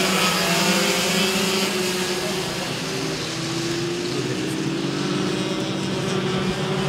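Racing karts from a regional FP-3 kart championship final stream past the control line out of the last corner, a continuous loud buzzing engine drone with overlapping whines rising and shifting in pitch.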